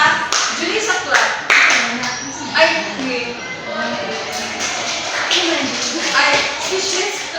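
A classroom group claps to reward the winning team during a teaching demonstration, scattered bursts of hand claps and taps mixed with talking and shuffling, uneven and close.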